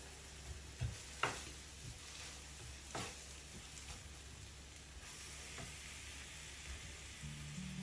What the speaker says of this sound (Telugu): ఇలా బచ్చల కూర వేగుతుంది కదా చూడండి